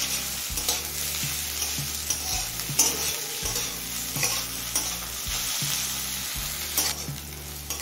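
Chopped onions and green chillies fry in a pan with a steady, close sizzle, broken by repeated scraping strokes of a spatula stirring them; no one speaks.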